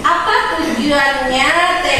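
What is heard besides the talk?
No everyday noise stands out behind the speech.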